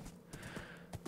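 A horse in the Minecraft video game gives a few quick, faint hoof clops in a brief burst.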